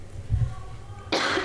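A single short cough from a woman, close and fairly loud, following a low throat sound and some quiet room noise.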